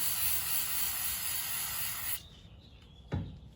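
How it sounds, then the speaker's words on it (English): A continuous aerosol spray of brake cleaner onto a rag hisses for about two seconds, then stops, followed by a quiet pause and a short bump. "Just spray a little bit on your rag."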